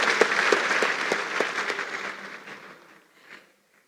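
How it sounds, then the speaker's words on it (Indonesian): An audience at a university talk show applauds: dense clapping from a hall full of people that gradually thins and fades to silence after about three seconds. "Tepuk tangan untuk Pak Oso."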